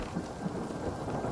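Thunder rumbling in the video game Hytale, a steady low roll with a rain-like hiss over it, heard alone with no talk.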